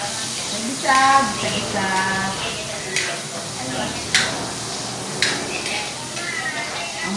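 Onions tossed into a hot pan give a steady frying sizzle with some stirring and utensil clinks, while a person talks over the cooking.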